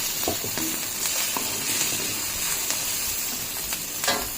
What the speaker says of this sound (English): Now I will be increasing the flame and I will add the remaining ingredients. So let's add the chili.